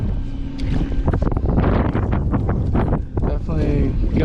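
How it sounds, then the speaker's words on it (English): Gusty wind buffets the microphone on a small boat on a tidal delta, a rough, fluctuating roar that stays loud throughout while a person talks over it. "Definitely gusty, ripping tide. My back's to the wind and the tide."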